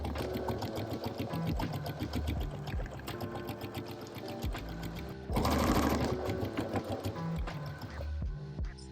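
Sewing machine stitching down a seam on jeans, a close, rapid mechanical chatter running steadily with a brief louder burst near the middle, no talking.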